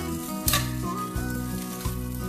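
Pork chop searing in a hot pan, a steady close sizzle with a few sharp clatters of the pan or utensil breaking through.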